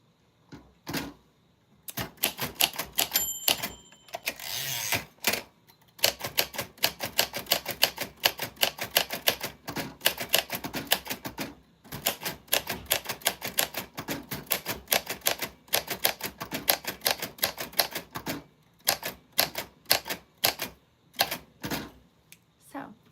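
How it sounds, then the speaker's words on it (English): A 1949 Royal Arrow manual typewriter is typed on in rapid bursts of crisp key strikes, with short pauses between runs and a carriage bell near the start; a voice talks now and then. "this typewriter is Royal Arrow. Its name is Mildred. It's from 1949, so it's still going strong"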